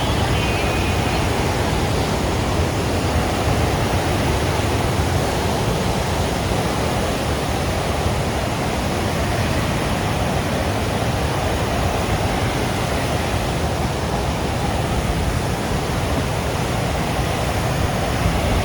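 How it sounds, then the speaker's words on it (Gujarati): Water rushes out of Khodiyar Dam near Dhari in a heavy, unbroken roar, loud and steady throughout with no voices. "અત્યારે તો પાણી કાંઈ ઘટે નહીં એટલું જાય છે."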